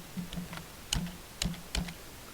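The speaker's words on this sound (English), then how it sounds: "we'll type in an item" Keys clicking on a computer keyboard as an item name is entered into a shopping database program, a few quiet, separate taps spaced about half a second apart.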